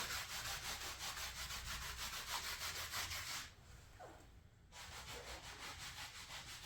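Steady back-and-forth scrubbing of a grease-stained car trunk mat from a junkyard Nissan SE-R, a rough rhythmic rubbing that stops for about a second in the middle and then resumes, close and fairly loud.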